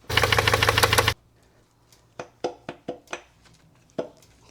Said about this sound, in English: when the car was idling and we heard that knocking noise